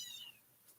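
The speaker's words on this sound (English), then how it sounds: "We have new kittens too." Newborn kittens only minutes old give a single faint, high thin mewing cry that fades quickly, followed by a softer short squeak, heard at a distance.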